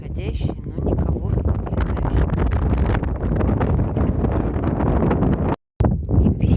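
Strong wind blows by the sea in Crimea, near Sudak and Feodosia, and buffets the microphone. The rumble is loud and continuous, broken by one brief dropout near the end.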